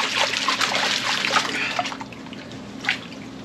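Water sloshes and trickles steadily as lighter material is washed out of a gold pan holding black sand, with a continuous close splashing wash and a brief louder splash near the end.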